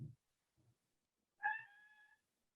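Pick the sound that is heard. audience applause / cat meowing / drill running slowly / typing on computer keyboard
cat meowing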